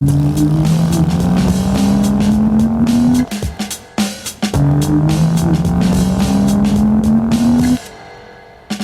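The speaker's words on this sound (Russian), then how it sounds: "После функции вертолета испробую-ка я жиродрайв как машину." A gyrodrive vehicle on the streets of Prague drives like a car, its motor whining upward in pitch during two loud, steady accelerations separated by a brief drop and rattle, without talk.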